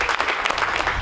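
A round of applause from fellow sheriff's deputies gathered outside a Tampa hospital, dense, steady clapping filling the moment with no voices over it.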